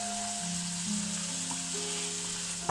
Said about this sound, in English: So we're just going to give it a nice stir around.